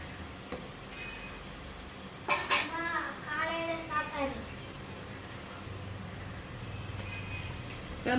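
Prawns go into hot oil in a pot for prawn biryani, with a few sharp metal clinks and stirring clatter over a low background hum. A voice speaks briefly in the middle.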